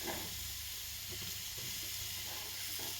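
One huge onion sizzles in a hot pan for a curry, a steady bright hiss and crackle of frying that stays loud and even throughout with faint stirring knocks beneath.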